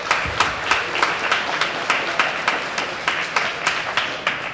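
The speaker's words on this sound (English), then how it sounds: "give yourselves a big round of applause for all that energy and passion" A small crowd at a networking livestream event gives a round of applause: a few distinct hand claps in a steady, fairly close rhythm over a soft bed of scattered clapping.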